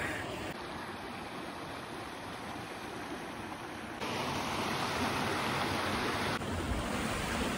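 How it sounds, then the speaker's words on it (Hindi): A river flowing nearby in Luxembourg, a soft, even rushing of water that holds steady throughout and swells slightly louder partway through, with no talking. "कितनी प्यारी आवाज़ आ रही है, मतलब ये पीछे नदी बह रही है"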